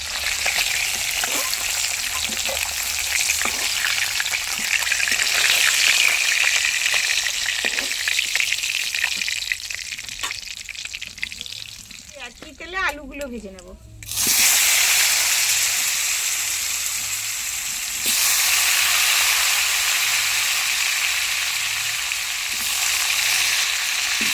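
Fish frying in hot oil, a steady loud sizzle and hiss close up that runs throughout, briefly dropping with a short rattle and stir before surging back to full crackle.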